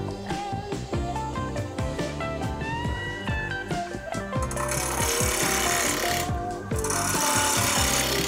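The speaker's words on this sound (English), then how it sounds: "I'm running the lathe at about 2100 RPM." A wood lathe spins at about 2100 RPM while a hammer handle is turned, giving a steady whirring hum with scraping and rasping cuts from the tool. Loud background music plays over it throughout.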